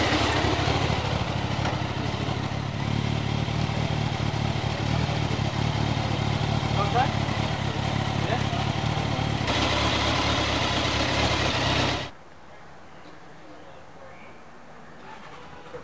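The Fast Bikes Magazine 'Mach 2' motorcycle engine runs at a steady idle, a continuous rough drone with clatter, close and loud for about twelve seconds before cutting off to quiet background.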